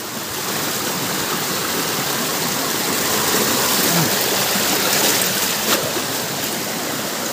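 Rushing water of Candice Falls pouring strongly, a steady broadband roar that fills the whole clip without pause, close and loud with no voices.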